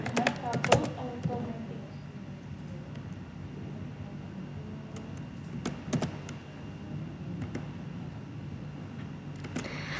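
Computer keyboard keys clicked in short clusters and single taps while entering Cisco switch configuration commands, with a person talking over the typing.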